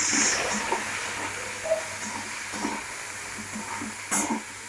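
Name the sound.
potatoes frying with salt and turmeric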